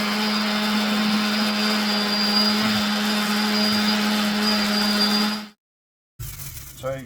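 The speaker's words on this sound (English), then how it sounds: "So I just use a palm sander with 40 grit" A palm sander with 40-grit paper runs steadily against a wooden walking-stick grip, a loud, even whine that holds for several seconds, then cuts off abruptly, followed by a brief quieter rustle.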